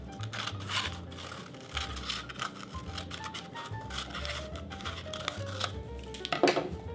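Scissors cut through gift wrapping paper, trimming about an inch away: quiet, crisp snips and rustling paper up close, with no voices.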